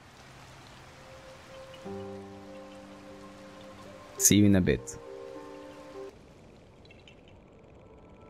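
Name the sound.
rain falling in Zelda: Tears of the Kingdom video game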